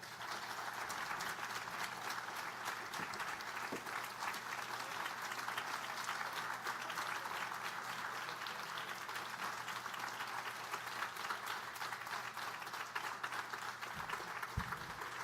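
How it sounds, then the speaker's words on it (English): A conference audience gives sustained applause after a keynote address by Vernice Miller-Travis, a broad, even wash of many hands clapping that holds steady for a long stretch, somewhat distant and without talk. "Let's keep giving Vernice some applause for that."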